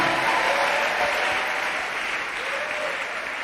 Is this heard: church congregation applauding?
yes